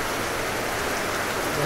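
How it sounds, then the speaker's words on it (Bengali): Heavy rain pours down as a steady, dense, unbroken hiss that stays loud throughout. "গাইস প্রচন্ড পরিমাণের বৃষ্টি নামতেছে আজকে"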